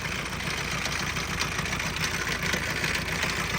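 A used diesel engine bought at auction runs at idle with a steady, slightly knocking mid-range rumble. It is close and continuous with no voices over it.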